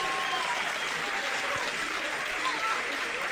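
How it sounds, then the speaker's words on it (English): Crowd cheering and applauding, a steady wash of dense clapping and cheers that holds at an even, fairly loud level throughout, with nothing else standing out. "and the crowd goes wild."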